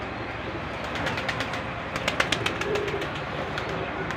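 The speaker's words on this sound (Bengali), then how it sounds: "এক কবুতর আসে এখানে আসে বসলো" Pigeons coo softly on a rooftop in the evening, with low murmuring calls and a few light flutters against steady outdoor background noise.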